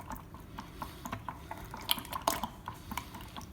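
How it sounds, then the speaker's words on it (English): Cheese powder gets stirred into cauliflower with a utensil, giving soft scraping and repeated light clinks against a dish, fairly quiet and close, with no talking. "All right, stir it."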